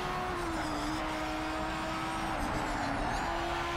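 Audi R8 LMS GT race car in Project CARS 3, engine note dipping under braking then climbing again, a steady close in-car drone with tonal whine throughout and no talk.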